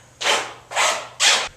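A snow blower runs outdoors, heard as three separate loud roaring bursts, each lasting about a third of a second with short gaps between, over a low steady hum.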